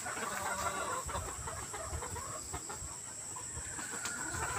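Chickens clucking in a backyard poultry house in the Philippines on a Sunday morning, a steady dense chorus of hens close by with a few sharper calls over constant background noise.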